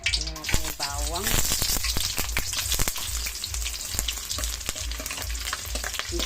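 Garlic frying in a kawali while a mixed vegetable and pork ginataan is cooked, giving a steady close sizzle with repeated scraping stirs and a brief vocal-like sound near the start.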